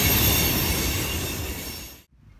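A train rolls past close by at a rail line near a boat work yard, a loud continuous rumble and rattle of wagons with squealing wheels that cuts off abruptly near the end.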